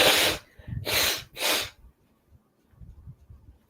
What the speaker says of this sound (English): I'm sorry for having to constantly blow my nose.